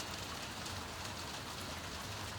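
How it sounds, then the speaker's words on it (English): Rain falls in a steady, even wash of faint hiss that fills the whole stretch without pauses, quiet and fairly distant, with no voices. "It's raining."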